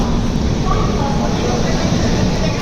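Rajahmundry to Chennai Superfast Express rolls through Chennai Beach station, a loud, steady interior rumble of the moving train with constant wheel and carriage noise close around.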